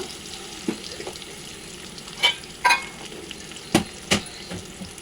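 Finely chopped onions frying in oil for vangi bath, brinjal rice, with a steady low sizzle and a few distinct scraping stirs of the pan, close up and without speech.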